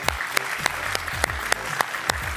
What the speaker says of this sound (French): on va vous applaudir bien fort, les deux familles.